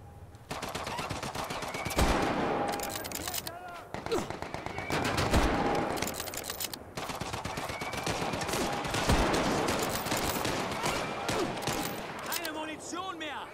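Gunfire rattles through a World War II shooter set at the Peenemünde rocket site in Medal of Honor Above and Beyond, continuous machine-gun bursts and scattered shots layered loud and dense throughout, with a player talking over the battle.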